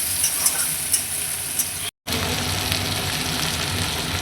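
Chilli and chopped ginger frying in a pan, a steady close sizzle with a few stirring scrapes and a brief cut to silence midway.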